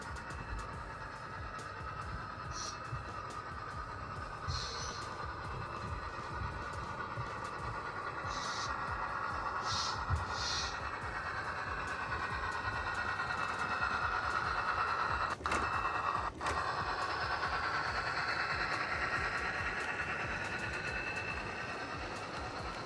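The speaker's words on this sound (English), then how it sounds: "I'm going to run a train here for you," A model train runs on a home layout track, giving a steady low mechanical rumble and whirr for over twenty seconds, with a couple of sharp clicks partway through and faint background noise.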